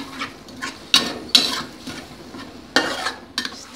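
Ground spice paste stir-fried in a pan for Cirebon-style docang, with sharp spatula scrapes over a soft, steady sizzle and no talking.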